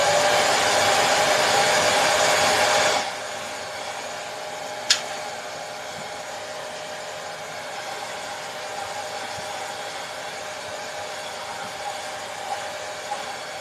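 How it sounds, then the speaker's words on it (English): A hair dryer blows loudly with a steady, dense rushing whoosh for about three seconds and then cuts off, leaving a quiet room with a faint hum. "hairdryer is coming in 3,"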